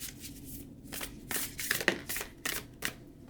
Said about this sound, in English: I'm just going to shuffle pretty quickly and we'll just pull a card.